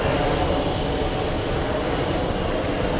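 Delta Airlines jet airliner at JFK airport, heard as a steady broadband roar of jet engines that stays loud and even throughout, with no voices on top.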